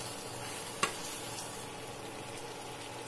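Chicken masala curry sizzles steadily in a pan as chilli powder is stirred in, with one brief clink of the spoon against the pan near the start.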